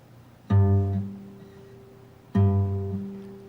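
Two muted, thumpy bass-string notes on an acoustic guitar, damped with the heel of the hand, each struck plainly and then ringing briefly, with no talking.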